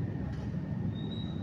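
A Whoosh high-speed train rumbles past in a brief, steady roar with a thin high squeal from the wheels rising partway through.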